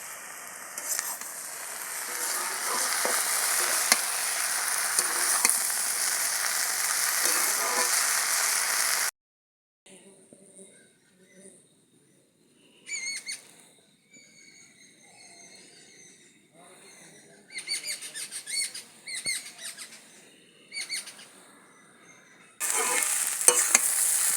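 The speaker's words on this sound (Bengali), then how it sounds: "এইরকম করে একটু টান টান করে ভাজতে হবে।" Fenugreek greens frying in a wok with potato, cauliflower and shrimp, a loud, steady sizzle up close that cuts off, returns in short scraping bursts of stirring, then resumes strongly at the end.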